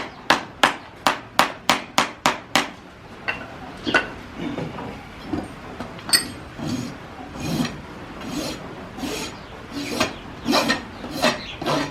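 A farrier works a horse's hoof with a rasp: a quick run of about eight sharp strokes, then slower, steadier rasping scrapes, close and fairly loud, with no talk over it.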